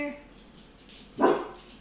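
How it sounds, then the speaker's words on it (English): A pet dog barks in one loud, close burst, set off by a doorbell ringing at home, preceded by faint background voices. "I can't stop barking. It's my job."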